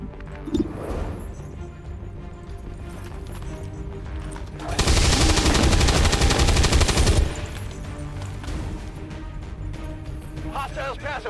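Sustained burst of automatic gunfire in the XCOM 2 video game, loud and dense for a couple of seconds amid in-game voices and background battle noise.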